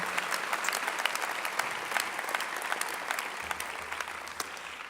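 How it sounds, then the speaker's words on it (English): Applause from an audience at a university graduation ceremony, a dense, even patter of many hands clapping for the graduands' supporters, steady and fairly distant, lasting the full stretch. "So please, let's give your supporters a huge round of applause."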